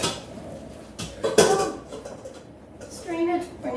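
Pots and pans clatter while noodles are strained for a crispy tofu stir-fry, with a few sharp metallic knocks and rattles near the middle and a clank toward the end, close by and moderately loud.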